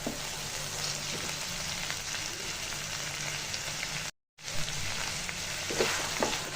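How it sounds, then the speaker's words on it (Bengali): Spices and salt frying in a pan for chicken chola bhuna give a steady, close hissing sizzle with soft crackles, broken by a brief silent dropout partway through, with no voices. "লবণ দিয়ে ভালো করে মশলাটা ভেজে নিব"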